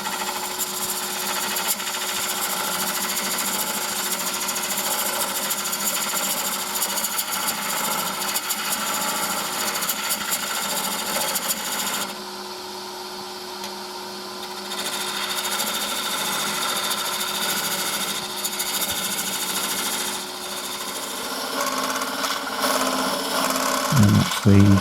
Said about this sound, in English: I'm just using a gouge there just to take the cup off the end which was left by the Forstner bit.